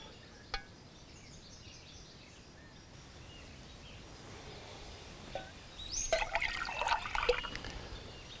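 Water is dipped and poured from a lined primitive filter well, a soft trickle through most of the stretch, then a louder splashing pour near the end, with faint birdsong in the background.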